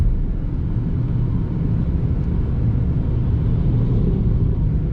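A Chrysler 200 driving along a back road, heard from inside the cabin as a steady, loud low rumble of road and engine noise with no breaks.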